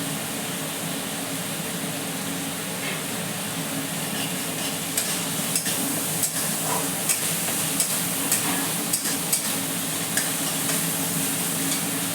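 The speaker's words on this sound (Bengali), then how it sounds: "একটু কাঁচা জিরেও দিয়ে দিয়েছি এইটার মধ্যে দিয়ে মশলাটা আমি কষিয়ে নেব" Spice paste with raw cumin frying in a pan for doi katla, a steady close sizzle with repeated scraping and clinking stirs growing more frequent in the second half.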